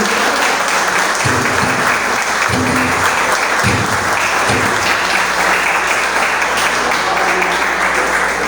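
A loud, dense round of applause from a church congregation, many hands clapping steadily and close throughout, with a few heavier rhythmic beats mixed into the wash of sound.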